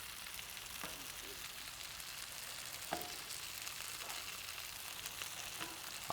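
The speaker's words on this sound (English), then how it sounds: "these have been toasting now for about 3 to 4 minutes" Burger buns toasting on a Blackstone griddle for grilled chicken sandwiches, a quiet steady sizzle with a few faint scrapes and taps of a spatula, heard alone without talk.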